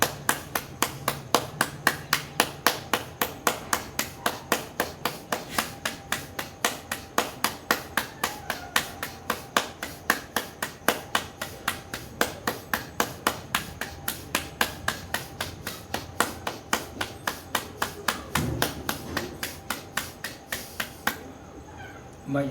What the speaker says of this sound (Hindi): ताली के साथ भस्त्रिका करें।